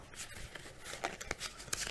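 Numbered cards for a reading game are shuffled by hand, giving quick, soft riffling flicks and taps that come in several short bursts at low volume.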